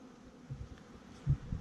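Honey bees buzz in a bee yard among avocado groves, a faint, low, steady drone with a few brief louder swells as individual bees pass close.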